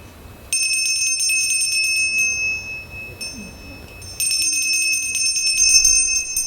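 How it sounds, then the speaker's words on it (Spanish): A hand bell rung at a lecture, its bright metallic tones ringing out loud and sustained in two sustained bursts of shimmering clangs with ringing decay between them, in a hushed room. "Haré sonar 3 veces la campana."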